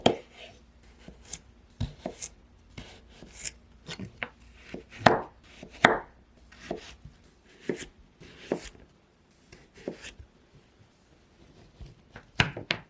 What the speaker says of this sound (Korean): 반으로 자른 다음 길이 방향으로 자르세요.